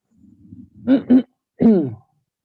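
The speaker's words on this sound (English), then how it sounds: "I was just clearing my throat" A person clears their throat up close during a Zoom meeting: a low rumble, two quick guttural bursts, then one longer rasping push, all on its own.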